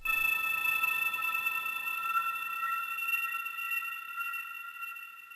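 Ambient synth sample from the Chord Prophecy, run in mono through a delay: a bright, sustained layered chord with shimmering high overtones, holding steady and slowly fading, with no voices.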